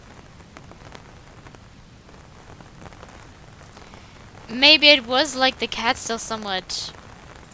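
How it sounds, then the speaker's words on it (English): Steady pattering of rain on a surface from the video game Doki Doki Downpour runs throughout, with a voice speaking over it in the second half. "listen to the pitter-patter of rain as it welcomes me in response"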